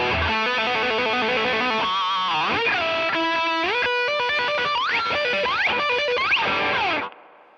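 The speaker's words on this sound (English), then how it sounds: "That's overdrive in front of distortion." Heavily driven electric guitar through a Fender Tone Master Pro, with crunchy overdrive stacked in front of distortion, playing a sustained riff with bends and slides before ringing out.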